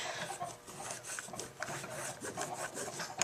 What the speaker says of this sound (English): I'm going to scrape off some of this clay that's stuck to my mat so it doesn't get in the way